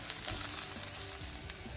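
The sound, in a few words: seasoning stirred and sizzling in a frying pan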